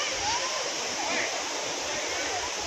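Fresh water flowing steadily at Damodar Kund pond in Bhavnath, Junagadh, a continuous bright rushing wash heard close and alone, with no talk over it.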